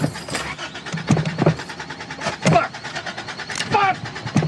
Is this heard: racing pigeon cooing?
no